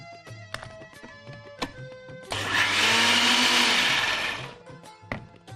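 A kitchen blender grinds ginger-chili paste with yogurt and water into a thin batter, a loud motor whir running about three seconds, bracketed by quiet taps and knocks before and after.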